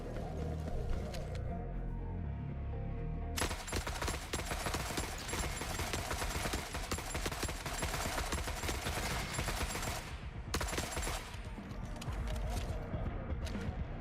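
9mm submachine gun fire in The Forever Winter, dense rattling bursts over a busy battlefield din that cut in and out across the stretch, with other distant shooting and noise beneath.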